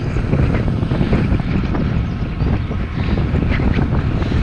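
Strong headwind buffets the microphone on a sunny countryside bike ride, a loud, continuous low rumble and roar with gusty fluctuations throughout, no voices.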